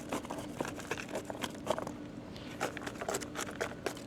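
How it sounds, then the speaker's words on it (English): Chunky anthurium potting mix is scraped along the sides of a pot and pushed down, giving soft, quiet crumbly scratches and patters in uneven bursts. "Just scraping the sides, gently just forcing some of the mix down"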